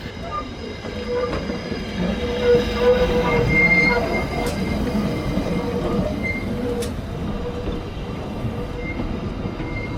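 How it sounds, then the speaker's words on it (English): A heritage railway train hauled by an 1879 double Fairlie steam locomotive rolls along the rails with steady rumbling, wheel squeals and clanks, plus brief sharp squeaks from the wheels. "The locomotive was the first double fairlie class steam locomotive to be built back in 1879"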